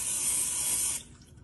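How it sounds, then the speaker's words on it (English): Cooking spray hisses out of an aerosol can into a mug in one close, steady burst lasting about a second, then cuts off sharply. "he suggested spray your mug"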